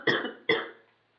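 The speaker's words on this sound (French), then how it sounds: "donc je tousse encore" Two close, sharp coughs in quick succession from a sick person, the second trailing off into quiet.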